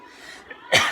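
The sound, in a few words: cough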